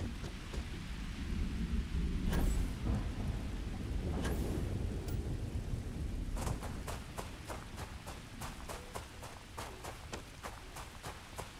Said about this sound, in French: C'est sympa quand il pleut.